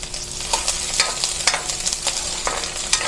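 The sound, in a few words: onions sautéing in a pan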